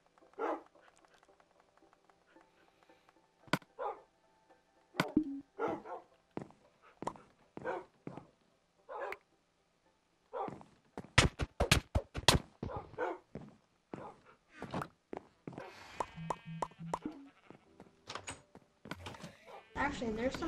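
Minecraft dogs barking and whimpering during a game, as sharp, separate yelps come in irregular bursts, with a rapid cluster in the middle, alongside game sounds and a speaking voice.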